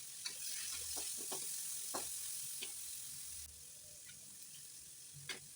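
Tomatoes and green chillies frying in oil make a soft, even sizzle, broken by scattered light clicks and scrapes of stirring, faint and close.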